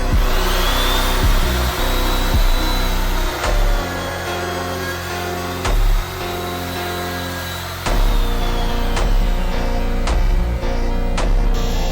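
A panel router cutting a full dado into a wooden board, one pass down and one back up, a loud continuous whining motor roar with a cutting tone close by, shifting in pitch as the cutter travels.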